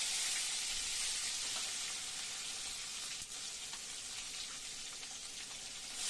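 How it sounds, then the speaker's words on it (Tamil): Cumin seeds and onion sautéing in a pan for a tamarind yam curry, giving a faint, even hiss of frying that carries on steadily without pauses or talk. "சீரகம், வெங்காயம் போட்டு வதக்கலாம்."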